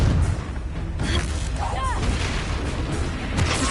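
Fiery blasts from the Confringo spell in Hogwarts Legacy: loud, rumbling booms and crackling bursts that roll on continuously, with a voice mixed in among the noise.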